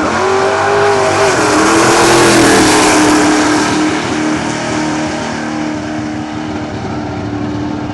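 Race car roaring past at speed, a loud continuous engine howl with shifting pitch that fades slightly as it draws away.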